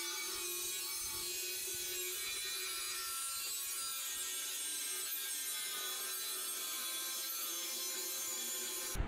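Steel tube for a Landcruiser 80 series bullbar is cut with a steady, continuous abrasive rasping that holds an even level for about nine seconds, close and alone, with no voices.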